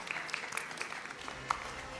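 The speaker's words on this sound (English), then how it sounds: "a round of applause for him" Audience at a South Asia media and advertising awards ceremony gives a round of applause, a soft, steady patter of clapping from a room of people, fairly faint and even throughout with a sharper clap or two standing out.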